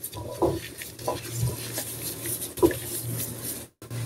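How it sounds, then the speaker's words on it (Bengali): A spoon mixes dry ingredients with three to four spoonfuls of gram flour in a bowl, giving scattered scrapes and light clinks against the bowl over a low, even background. "এখন শুকনো উপকরণগুলো আমি ভালো করে মিক্স করে নিচ্ছি।"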